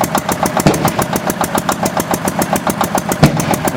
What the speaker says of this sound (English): that's not Mike's generator, that's somebody else's